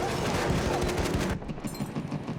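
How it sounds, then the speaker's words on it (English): Dense gunfire from Battlefield 1 roars for over a second as overlapping rapid shots, then thins into scattered, punchy bursts at closer range, loud throughout with no speech. "No, steer into the gunfire."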